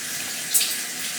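Water runs from a kitchen tap in a home kitchen during baking, a steady close-up gush with a brief splash partway through and no talking.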